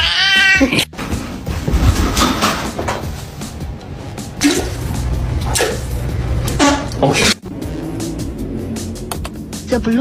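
A cat meows loudly and repeatedly at close range, with drawn-out, whiny caterwauling calls broken by brief pauses. Faint household background sounds lie underneath.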